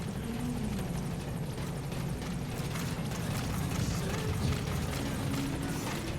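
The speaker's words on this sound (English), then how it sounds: "Support helicopter has arrived." A support helicopter arriving in the video game Metal Gear Solid V: The Phantom Pain makes a steady, fairly quiet rotor thrum and engine whine with a low pulsing beat throughout.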